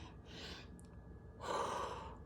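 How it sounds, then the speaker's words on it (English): Two sharp breaths, one short and one longer and louder, taken close up during a push-up exercise, with no talking. "for your breathing, you're gonna breathe in"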